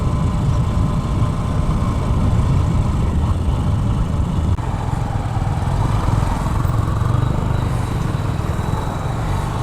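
Large fishing-boat engines at Digha Mohana on the coast, a heavy low diesel rumble that drones steadily and loudly throughout, close by, with no voices over it.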